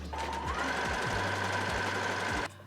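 A sewing machine stitches fold-over elastic onto a dress with a steady, close, rapid mechanical chatter that runs continuously before stopping abruptly near the end.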